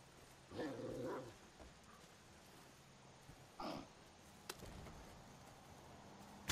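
Dog barking in Far Cry 5: a couple of short, moderately loud barks spaced a few seconds apart, with faint game ambience between them.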